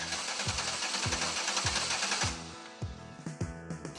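A faulty car engine cranks over with an uneven, rhythmic churning of the starter, loud and steady at first, then turning irregular with a chugging pulse and a thin high whine.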